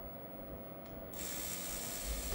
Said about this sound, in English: Try the motor this time instead of the light.